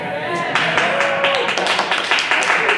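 Applause at the Super Bowl, a dense wash of clapping mixed with crowd noise and voices, steady and loud across the whole stretch.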